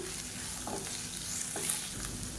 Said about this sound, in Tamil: இது எல்லாமே நல்லா வதங்கணும்